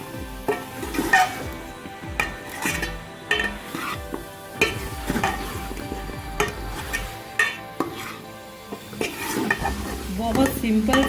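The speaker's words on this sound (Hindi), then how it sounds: "अब इसमें आलू शामिल कर देते हैं। इसको अच्छे तरीके से मिक्स कर दें।" Potatoes being stirred into an aloo baingan curry in a pan, with repeated scraping strokes of the spoon over a steady sizzle of frying, close and fairly loud, with no talking.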